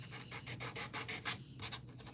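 A buffer polishes file scratches out of metal with quick rhythmic rubbing strokes, about five per second, faint and close with no talking.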